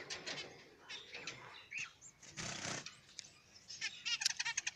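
Young finch chicks in a nest give thin, high chirps in short irregular bursts, faint and close, with brief rustling between calls.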